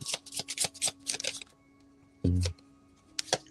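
Tarot cards being shuffled by hand, heard as a run of quick, crisp riffling flicks, then a short pause and one denser riffle burst, with a few final snaps, close and clear with no talking.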